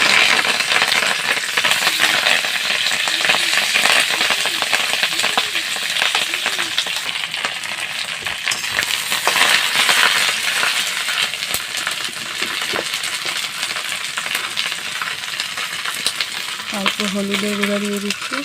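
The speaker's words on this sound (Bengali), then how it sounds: "এই পাতাগুলো আমি তেলে অল্প নেড়ে নেব" Taro leaves are stirred and fried in hot oil in a wok, a continuous crackling sizzle with frequent scraping and rattling stirs, fairly close, and a brief tonal clink near the end.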